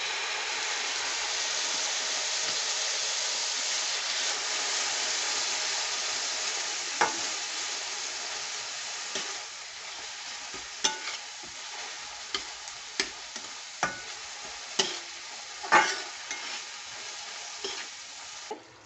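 Tomato is added to a ginger-garlic spice paste frying in a pan, giving a steady loud sizzle that eases partway through, while a spoon scrapes and stirs with scattered clicks.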